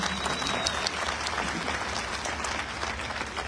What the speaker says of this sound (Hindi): जितने लोग पहली बार आए उनका हम जितने पुराने लोग हैं जोरदार तालियों